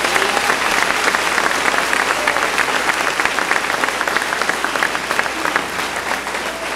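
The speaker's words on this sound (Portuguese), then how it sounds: "Palmas bem forte para o Senhor Jesus." Loud, dense applause fills a church during an online Thursday evening worship service, the congregation clapping steadily and evenly for nearly seven seconds with no voices rising above it.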